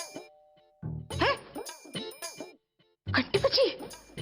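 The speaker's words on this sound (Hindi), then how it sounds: "घंटी बजी, शायद आ गया हो।" A household doorbell gives a short, soft chime at the start. Quiet indoor sounds and voices follow in gaps.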